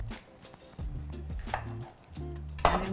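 A kitchen knife slices the top off a zested orange while chocolate orange mousse is being made. Soft knocks on a board come first, then one sharper, louder cut near the end, all over a steady low tonal hum.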